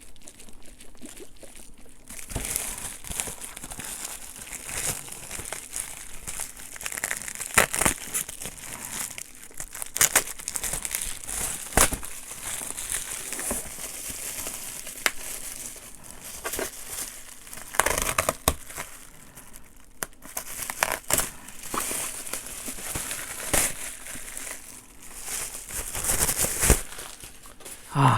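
Packaging of a Kyobo bookstore PAGE 200ml diffuser is torn open and handled close to the microphone, giving continuous crinkling, crumpling paper and plastic with sharp tearing bursts.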